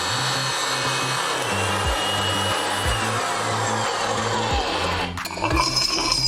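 A RIDGID 300 electric pipe threader runs steadily while threading a pipe, with a loud continuous motor drone and a low pulsing hum repeating about once a second. A sharp clank sounds near the end.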